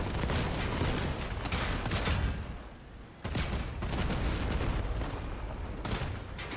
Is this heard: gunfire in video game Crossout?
yes